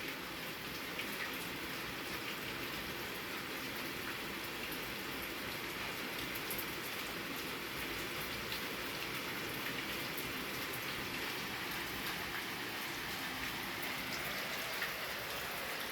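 Steady rain falls on a wet night in the mountains outside a house, a soft, even hiss of drops on surfaces that continues unbroken from start to finish, with no voices.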